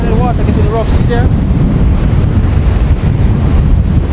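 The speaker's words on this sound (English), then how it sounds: "the wind getting really strong and the water getting rough" Strong wind roars across the microphone on rough open sea off Jamaica, a constant loud rush of wind and choppy water filling the whole clip, with a brief whistling tone near the start.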